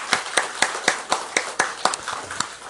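A church congregation claps in unison, a crisp, regular beat of about ten sharp claps, close and loud with brief gaps between each.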